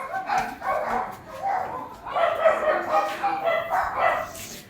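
A dog barks and yips in quick, uneven bursts while a washing machine is being moved at a home. The noise is fairly close, and voices talk alongside it.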